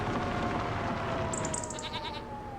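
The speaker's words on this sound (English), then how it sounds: "I'm gonna check the goats and sheep for make sure they have full food" Goats and sheep bleat in Farming Simulator 2025, a few high wavering calls rising over a steady, dense farmyard ambience in the video game.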